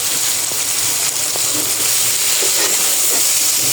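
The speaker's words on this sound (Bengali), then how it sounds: "করলা ভাজি আমার হয়ে আসছে যাই হোক করলা ভাজিটা তো আমার হয়ে গেছে" Bitter gourd fries in a pan, producing a close, continuous sizzling hiss with a few faint taps and scrapes over a few seconds.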